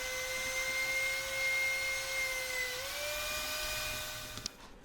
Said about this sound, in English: I'll just go ahead and do the other side with the planer as well.